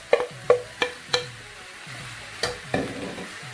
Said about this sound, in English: So basically, I'm frying it with no oil, and I'm going to leave it here to cook for a few minutes.